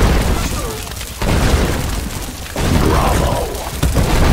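Siege catapult impacts and crumbling stone in the Stronghold Crusader HD strategy game, a dense rolling barrage of booming hits over continuous battle noise, with game voice lines spoken over it.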